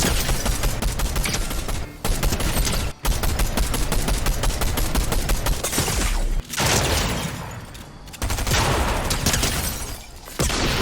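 Rapid gunfire from a Fortnite match, dense bursts of shots packed closely together with a few brief gaps, loud and continuous with no talking.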